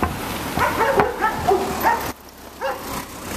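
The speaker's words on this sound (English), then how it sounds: "Oh, got the dogs out as well." Several dogs bark in short yipping bursts, fairly close and loud, with a brief pause before barking resumes amid outdoor road noise.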